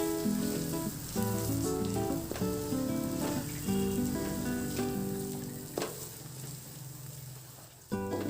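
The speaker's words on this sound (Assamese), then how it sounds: "তাৰ পাছতে আকৌ কিছু সময় মই এনেদৰে ভাজি থাকিম, যেতিয়ালৈকে মানে মটৰখিনি অকণমান কোমল হৈ নাযায়।" Green peas fry with spices in a pan for matar paneer, giving a steady, close sizzle that runs the whole time beneath prominent background music.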